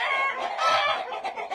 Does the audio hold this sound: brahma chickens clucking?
yes